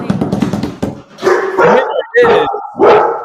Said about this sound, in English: The dogs are saying congratulations.